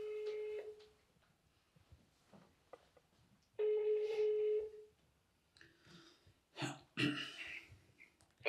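Telephone being dialed for a call: short tonal beeps come in two bursts, then a few handling clicks and breaths, all faint and close.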